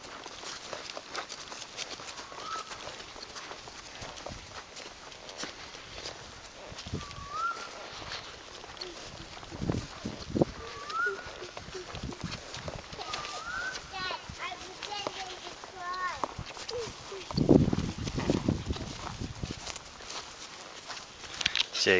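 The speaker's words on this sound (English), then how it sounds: "riding a horse in Bombiana for the first time on a big horse" A big horse walks outdoors on a farm with cows nearby, its hooves clip-clopping in a steady, quiet rhythm under frequent talk and occasional birdsong.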